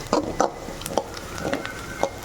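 Pulicha keerai (gongura) greens being sautéed separately in a pan: soft sizzling with repeated scraping stirs of a spatula, several distinct strokes at an uneven pace, close and fairly quiet, with no talk.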